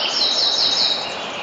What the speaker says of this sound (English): the beautiful sound of the birds